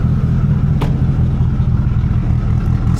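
A Mitsubishi Evo 8 engine runs at a steady idle after a fuel pump relay fix, a continuous low rumble that stays close and even throughout, with one brief sharper tick partway through and no voices.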